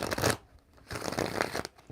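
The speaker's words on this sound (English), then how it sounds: "Because I can't even shuffle these cards" A deck of cards being shuffled: two bursts of papery riffling and rustling separated by a short pause, close and fairly quiet with no talk.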